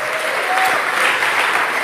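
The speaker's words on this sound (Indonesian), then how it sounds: "Kita kasih tepuk tangan dulu yang dahsyat." A church congregation claps vigorously, a dense, continuous wash of many hands that stays loud and steady throughout the short burst.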